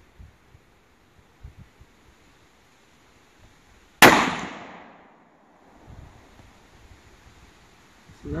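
Remington 700 SPS Tactical .308 rifle fired once down range at about 100 yards, a sharp loud crack with a decaying echo tail, amid quiet outdoor background.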